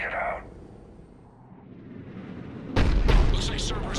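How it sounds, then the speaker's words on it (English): A large cannon fires in the sci-fi game Mass Effect 3 on Tuchanka, a heavy distant boom that breaks in after a quiet stretch and rumbles on. "Looks like Cerberus got that cannon operational"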